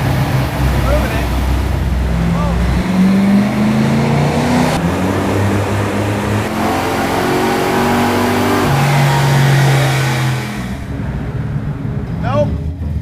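A supercharged 1978 Chevrolet Monza Spyder engine roars under load on a dyno, pitch climbing in stepped pulls through the gears before dropping off near the end, loud and close with voices shouting faintly underneath.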